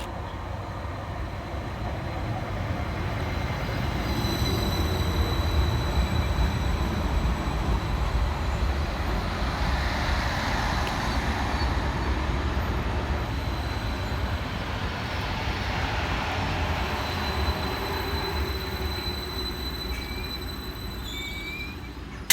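A Transport for Wales train, unit 231009, rolls into a station with a steady low rumble and faint squealing tones that swell and fade gradually, with no voices.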